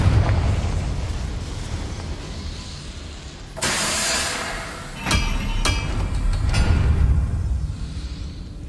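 Confringo blasting spell fired in Hogwarts Legacy, a roaring fiery burst followed by sharp cracking impacts, loud and close over a steady ambient rumble.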